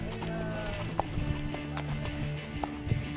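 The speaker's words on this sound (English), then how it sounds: "Being out in the desert and riding horses" Hooves of a ridden horse clip-clop out in the desert, a near, uneven rhythm of distinct hoof strikes over a low steady background.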